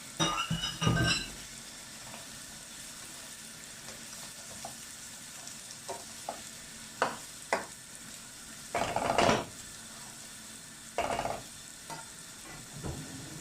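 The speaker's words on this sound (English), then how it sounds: "So we let it fry for some minutes" Carrots frying in a pan for fried rice, with a low steady sizzle broken by scattered stirring scrapes and utensil clinks, fairly quiet with no talking.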